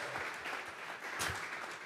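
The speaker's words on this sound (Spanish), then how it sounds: "Vamos a regalarle ofrenda de palmas al Dios de la gloria." Congregation in a church service gives a round of applause, a short patch of scattered hand claps at low level with a louder burst partway through.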